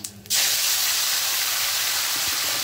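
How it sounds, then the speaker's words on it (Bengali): Ginger and green chili paste dropped into hot oil sets off a sudden loud hiss that bursts up after a brief quiet moment and holds as a steady, close sizzle. "এবার এখানে আদা আর কাঁচা লঙ্কা পেস্টটা দিয়ে দেবো।"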